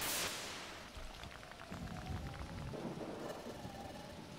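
Storm on a mountain in Pokémon Mystery Dungeon: Explorers of Sky, opening with a loud thunder crack that fades into steady rain and rumbling wind.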